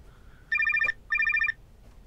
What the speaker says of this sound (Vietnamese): Điện thoại.